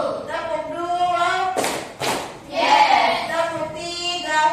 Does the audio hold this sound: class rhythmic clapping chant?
yes